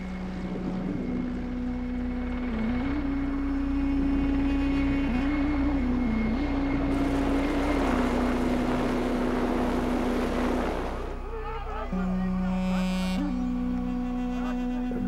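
An Mi-8 helicopter flies over the mountains of Svaneti with a steady engine drone and whine that rises and falls. Wind buffets the microphone in loud gusts, and the pitch of the engine tone shifts near the end.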